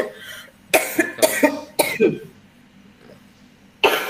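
Several hoarse coughs come in a quick burst, then another pair after a pause, close and fairly loud over a quiet room hum.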